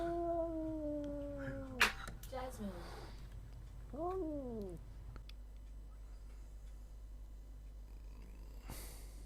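A cat's meows and vocalizations, with several tonal, rising-and-falling calls early on and another around the four-second mark, fairly close over a low background hum.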